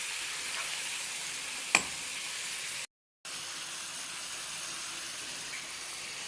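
Chicken pieces for a simple chicken curry sizzle steadily in a hot pan, a close, even hiss broken by a single sharp click and a brief dropout to silence.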